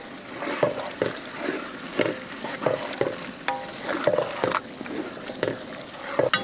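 Bread slices frying in a pan for vegetable biriyani, a steady close sizzle broken by repeated stirring and scraping strokes throughout, with no voices.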